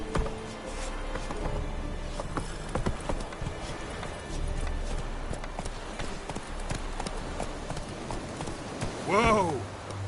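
Roach, Geralt's horse in The Witcher game, gallops with steady rapid hoofbeats under game ambience, ending in a short whinny near the close.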